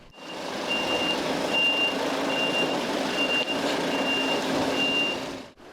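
A tow truck in Lviv reverses while removing abandoned cars from the street, its reversing alarm giving evenly spaced beeps over a steady engine rumble, with no talk.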